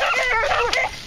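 A hunting dog outdoors gives a quick run of yips and whining barks, close and loud, several short bursts one after another with no talk over them.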